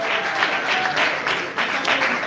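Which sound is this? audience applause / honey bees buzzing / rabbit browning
audience applause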